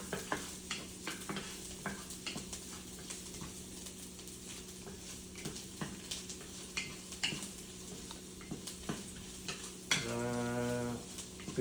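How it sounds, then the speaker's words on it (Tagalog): Garlic fries in a pan with a steady soft sizzle, broken by light stirring clicks and scrapes, then a brief low hum near the end. "Prito muna po natin ang bawang."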